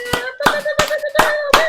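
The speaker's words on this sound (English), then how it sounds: "Real claps." Hands clapping five times in a slow, even rhythm, close and sharp, over a steady musical tone.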